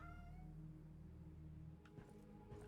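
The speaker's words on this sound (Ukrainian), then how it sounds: "Він так гарно м'явкнув." Cat meowing aboard a sinking submarine in the game Sinking Island, a few soft mews layered over steady low engine hum and game music, fairly close and clear.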